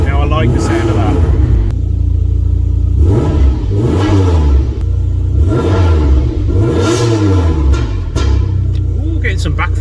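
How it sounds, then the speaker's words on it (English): Alfa Romeo 155 V6 modern classic, about 27 years old with aftermarket Momo wheel, revving in repeated swells with a burbling exhaust and popping backfire; loud and close, a person speaking over it. "getting some backfire out the exhaust, nice little burble"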